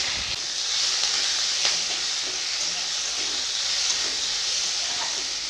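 Five-spice seeds, two bay leaves, four green chilies and chopped onion sizzle in hot oil in a wok, giving a steady, close, continuous frying hiss with faint crackles throughout.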